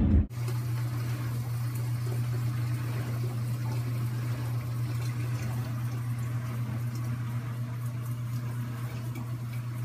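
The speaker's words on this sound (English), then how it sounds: "But I'm filling water jugs." Water runs steadily into jugs as they are filled, a constant close hum and gush that starts abruptly after a brief bump and continues unbroken throughout.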